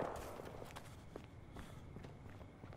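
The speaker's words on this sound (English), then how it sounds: "I hear footsteps." Faint, quick footsteps in the multiplayer shooter Battlefield Hardline, a run of soft irregular steps under low game ambience, fairly distant and quiet.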